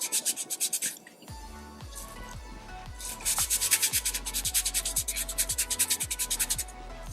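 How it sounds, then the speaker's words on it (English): Eyeshadow stick makeup being scrubbed hard off skin, a close rhythmic rubbing with steady back-and-forth strokes that speed up, loud and alone with no voice. "And I'm like really scrubbing here."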